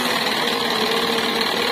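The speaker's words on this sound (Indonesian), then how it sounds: "ini hidup ya mesinnya." An Isuzu NMR81 Euro4 diesel truck engine runs at idle, giving a smooth, continuous hum with a faint rattle. It is close and steady throughout the short stretch, with no talking.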